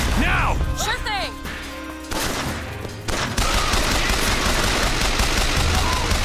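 Repeater machine gun in BioShock Infinite firing in loud, dense bursts of rapid shots amid a chaotic firefight, with voices shouting over the gunfire.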